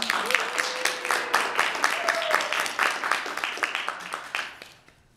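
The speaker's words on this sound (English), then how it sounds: "So let's give a round of applause for Dean Grumlick." Meeting audience applauding an introduced speaker, dense overlapping claps throughout with a few voices and whoops over them, fading out at the end.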